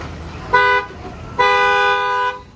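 The horn on a truck, fitted in place of an air horn, honks twice: a short blast, then a longer held one, loud and close with no talk.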